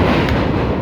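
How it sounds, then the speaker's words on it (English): Loud, steady rumble and clatter inside a moving train carriage, dense low noise throughout a short stretch with no voices. "Sorry, I'm on the train, so it's kind of loud."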